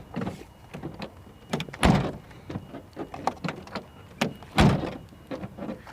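Tailgate of a Volkswagen T4 Eurovan that does not shut properly, heard as a series of close knocks and clunks, with two heavier thuds as it is pushed and slammed against the latch.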